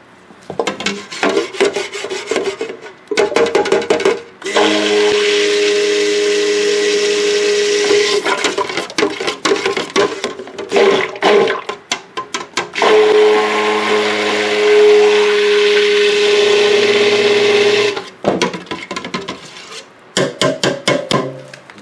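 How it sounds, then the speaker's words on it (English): A stick blender mixing soap in a big pot whirs in long and short bursts with rough, buzzing pulses between steady runs, close and fairly loud, with no talking. "set our stick blender aside"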